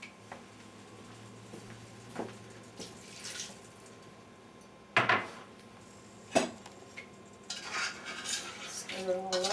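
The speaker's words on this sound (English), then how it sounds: "Stir it all up good." A spoon stirs a stew of burgundy wine, water and mushrooms in a cooking pot, giving scattered scraping and clinking knocks against the pot with sloshing between them, close and fairly quiet.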